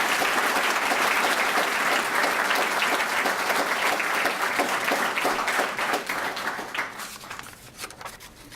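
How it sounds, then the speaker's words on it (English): Sustained applause from a ceremony audience honoring Army retirees at a Fort Riley retirement ceremony, steady and dense before tapering off over the last few seconds. "please join me in a round of applause for all the retirees on a job well done"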